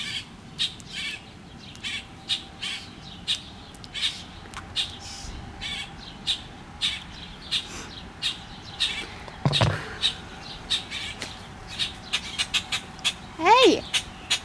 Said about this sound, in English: It sounds like there are baby birds above me.